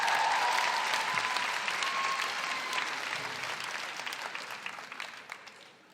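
A live podcast audience in Wellington applauds loudly from the start, a dense, steady wash of many hands that slowly thins and fades over about six seconds.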